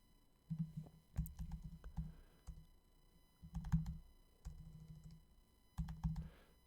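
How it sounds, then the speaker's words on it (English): Computer keyboard typing a database command, heard as close clusters of clicky keystrokes in several short bursts separated by brief pauses, with no voice over it. "So we want to type in create user"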